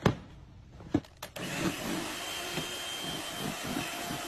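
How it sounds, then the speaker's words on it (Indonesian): An electric mixer whips steadily as agar-agar mixture is poured in, preceded by a few clanks, and the hum stays close and constant. "Sambil tuang agar-agarnya sambil di mixer."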